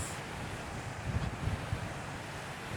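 Steady wind roars across the microphone on a beach walk, a dense, constant rush with low gusty thumps and no clear voices.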